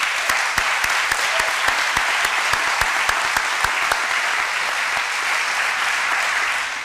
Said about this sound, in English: Round of applause, please, for our faculty and staff.